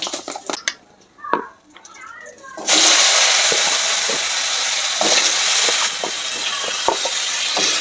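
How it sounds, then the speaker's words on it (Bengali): Cumin seeds dropped into hot oil for tempering, bursting into a loud, sustained sizzle with crackles after a few quieter pops and kitchen clatter, cooking a village-style fish dish with raw papaya. "জিরা ফোড়ন।"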